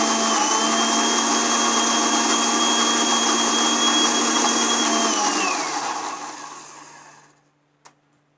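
A mixer grinder whirs through green chutney with garlic and cumin, a loud steady motor drone for about five seconds that then winds down and stops, followed by a single small click.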